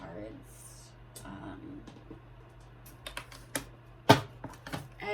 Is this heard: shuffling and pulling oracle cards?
yes